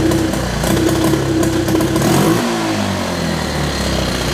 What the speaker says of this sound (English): It's just when you hit it hard, it's backfiring